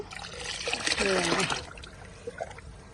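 Kitchen waste water is poured from a container onto freshly dug, dry garden soil around a plant, a brief splashing trickle that peaks and then fades to a few small drips.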